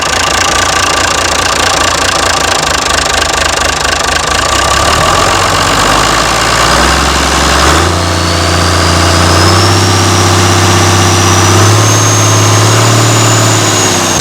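An old Perkins turbo diesel engine runs loud and steady, its idle settling into a low, even throb with shifting harmonics as it evens out, no voices over it.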